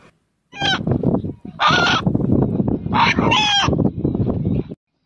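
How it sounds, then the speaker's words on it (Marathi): A rooster in Satara district crows in two loud, close bursts, its drawn-out calls sounding almost like a spoken word, with nobody talking. "हा कोंबडा अण्णा या नावाने हाक मारतो आहे"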